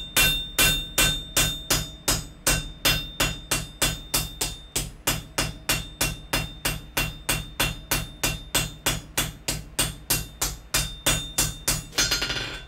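A hammer strikes hot 5/8 inch square mild steel at a steady forging pace, dozens of sharp ringing blows in a row, loud and close, ending with a final cluster of hits.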